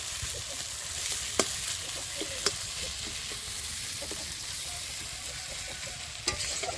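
Spice paste with tomato sizzling in a pan for a green chilli fish curry, a steady soft frying hiss broken by sharp scraping clicks as it is stirred, with no talking.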